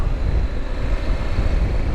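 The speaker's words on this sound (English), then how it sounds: "Very windy up here at the moment." Strong wind on a high hilltop roars and buffets steadily against the microphone, a dense low rumble with no voices.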